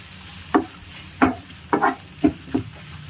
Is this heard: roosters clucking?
no